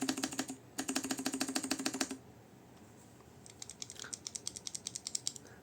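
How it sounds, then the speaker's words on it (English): Mechanical keyboard keys pressed in rapid, even bursts of crisp clicks: a quick run, a short pause, then another steady stretch of fainter taps, close and alone with no talk. "I'm pressing my keyboard now."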